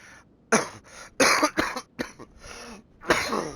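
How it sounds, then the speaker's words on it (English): Several harsh coughs in quick bursts, close to the mic, with short pauses between them and a final cough after a brief gap. "I got the coughing too much."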